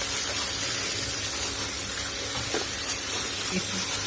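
Masala fries in oil in a pan for lauki kofta gravy, a loud, constant close sizzle with faint stirring scrapes near the end.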